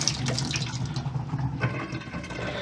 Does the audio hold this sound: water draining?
yes